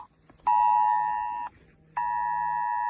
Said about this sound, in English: I was Amber Alert on my phone.